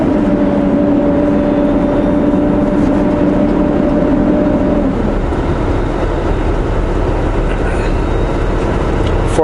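A heavy truck pulls in 13th gear along a highway, its engine a steady loud drone with low tonal hum that shifts midway as the gear changes, rolling road noise throughout.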